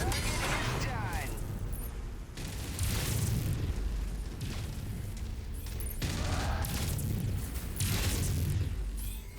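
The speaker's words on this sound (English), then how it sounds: "Like he's got an ammo explosion going on." Booming blasts and rumbling detonations from a mech's ammunition cooking off in the MechWarrior 5 video game, coming in several heavy bursts over a continuous low roar of battle noise.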